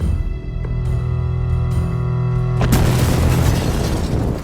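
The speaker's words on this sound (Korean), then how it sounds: "구조물 일부가 붕괴될 정도로 폭발이 매우 컸는데" A gas explosion strong enough to collapse part of a building bursts out. A steady hum is abruptly broken by a loud, sudden blast that leaves a rough, roaring wash of noise.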